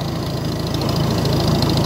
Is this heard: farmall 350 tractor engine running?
yes